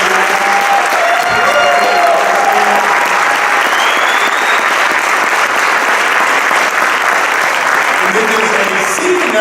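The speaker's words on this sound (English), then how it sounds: "Let's give a round of applause for our network vice presidents here." Sustained audience applause from a large crowd at a Super Saturday event in Houston, Texas, loud and steady throughout, with faint talk and a few cheers mixed in beneath the clapping.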